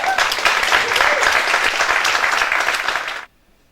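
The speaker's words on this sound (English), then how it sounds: "I ask a strong applause to Mr. Koka Prasad" An auditorium audience gives a strong round of applause for speaker Koka Prasad at an AGORA communication-skills talk, dense even clapping that stops abruptly and leaves near silence.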